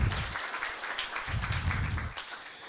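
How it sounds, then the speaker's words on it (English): A crowd applauds with a steady patter of clapping that swells and dips, continuing throughout at a moderate, slightly distant level. "Can we clap for him?"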